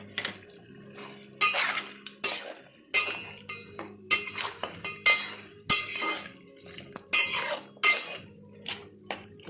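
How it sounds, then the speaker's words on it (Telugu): A spoon stirring mutton curry seasoned with turmeric in a pot, with sharp metallic clanks and scrapes coming in irregular bursts, close and clear with short quiet gaps between them. "ఇదంతా మొత్తం కలిసేటట్టు తిప్పండి."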